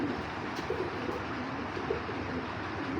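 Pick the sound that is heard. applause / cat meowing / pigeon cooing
pigeon cooing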